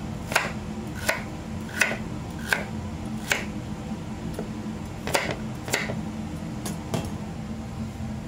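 Carrots being cut into large pieces on a board for blanquette de veau: about a dozen crisp, evenly spaced knife chops, close and clear, over a low steady room hum.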